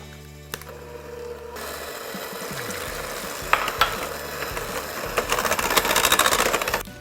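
Eggs being mixed one at a time into pineapple bundt cake batter, a soft continuous churning whir with light irregular clicks and taps, fairly quiet and steady throughout.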